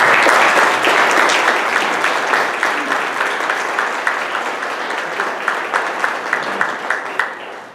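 A luncheon audience applauds to welcome a speaker to the podium, dense clapping at full strength that gradually thins into scattered individual claps.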